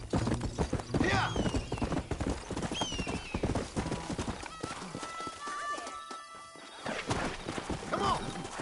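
Horse hooves clip-clopping at a gallop in a Red Dead western video game, rapid rhythmic hoofbeats with neighs and whinnies, while people talk excitedly over the riding.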